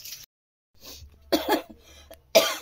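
A person with a sore throat gives a few short, harsh coughs in separate bursts, close and fairly loud, with quiet gaps between them.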